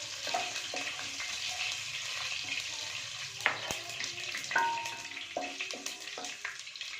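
Whole spices, bay leaf, cinnamon, cloves, cardamom, shahi jeera, star anise and nutmeg, sizzle steadily in a hot pan, a continuous crackling fry punctuated by occasional sharp clinks and scrapes of a utensil.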